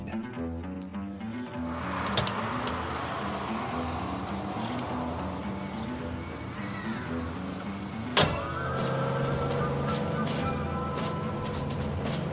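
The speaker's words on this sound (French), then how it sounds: "il s'offre une Porsche rouge dans laquelle il aime parader dans les rues de Bayside" A red Porsche sports car drives along the streets of Bayside, its engine a steady close hum with a rising whine, a sharp click partway through and a smooth cruising tone after.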